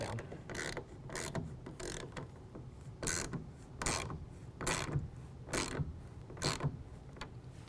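A clamp on a Gator roll-up tonneau cover is cranked tight with repeated ratcheting, creaking turns, about eight rhythmic bursts close up over a steady background hum.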